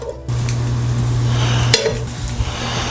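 Potatoes dropped into a hot pan with eggs already cooking for a brunch dish, giving a loud steady sizzle and spatter, with a brief clatter of utensils midway.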